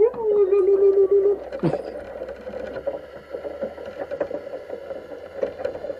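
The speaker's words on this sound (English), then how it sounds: "I hear a boat going by now." A motorboat engine drones steadily in the background, a low continuous hum with faint clicks and knocks nearby.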